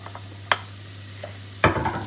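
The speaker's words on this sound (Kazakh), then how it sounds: "Біздің туралған шампиньондарымызды саламыз." Sliced champignon mushrooms fry in a pan, with a faint low sizzle broken by a couple of sharp clinks of a utensil and a louder stirring scrape near the end, against a steady low hum.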